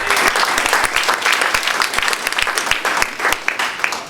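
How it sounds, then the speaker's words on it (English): A live audience at an Opal Network talk in Eugene, Oregon claps steadily to welcome a speaker, a dense, close run of many hands with individual sharper claps popping out, sustained for the whole stretch. "So a round of applause just to welcome her."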